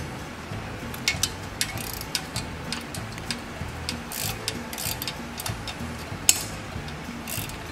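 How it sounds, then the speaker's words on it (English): A nut is tightened beneath a valve guide on an engine, heard as close, repeated ratchet clicks with sharp metallic ticks over a steady mechanical background. "then you just hold it there and then tighten the nut underneath"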